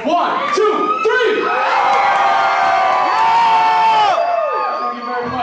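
A concert crowd screams and cheers loudly and continuously for several seconds, a dense wall of whoops and shouts that fades slightly at the end.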